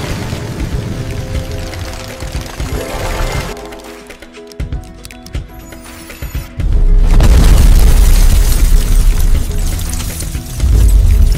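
Booming explosion sound effect for a box explosion short-form video: loud deep blasts with crackling debris, a quieter gap in the middle, then heavy rumbling bursts near the end.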